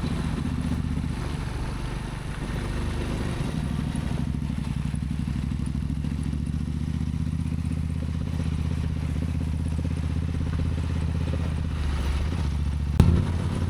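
A vehicle engine labors up a hill road in second or third gear, a steady low droning rumble with faint clatter, continuous and close, with a brief knock near the end.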